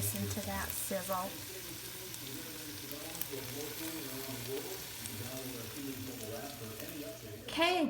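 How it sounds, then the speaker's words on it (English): Steady sizzling of food frying in a pan throughout, with a soft voice briefly heard over it near the start and end. "Oh, listen to that sizzle."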